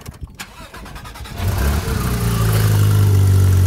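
A Porsche 911 GT3 RS flat-six engine cranks and fires up loud and close, then settles into a steady, throaty idle.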